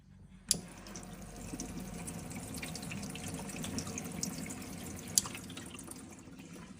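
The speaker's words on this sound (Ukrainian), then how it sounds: "Має водоспад функцію." Running water from a kitchen faucet with a waterfall-style spout, a steady close rushing flow through the whole stretch, with a couple of sharp clicks or taps against the sink.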